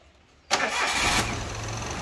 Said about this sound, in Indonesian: untuk mesinnya juga coba kita nyalakan